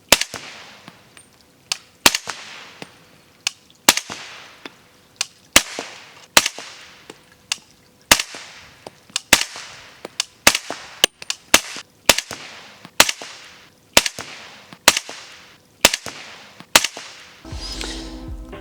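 Suppressed subsonic 300 Blackout rounds fire through Q Blind Tiger and Speakeasy suppressors, about sixteen dull, sharp cracks at a steady, evenly spaced pace with short gaps between, heard alone and fairly close.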